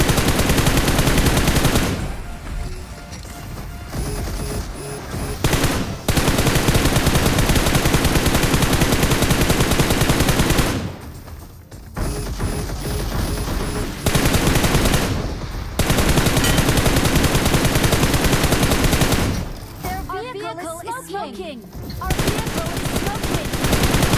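PUBG mobile gameplay with loud, dense bursts of automatic gunfire that repeat in long volleys, separated by short lulls of quieter in-game ambience.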